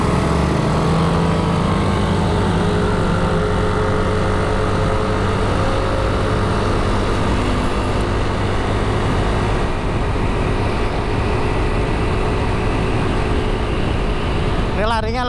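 A Yamaha Lexi-S 155 scooter with a new V-belt accelerates at full throttle, its engine droning steadily and loudly under rushing wind throughout, with a rider speaking over it.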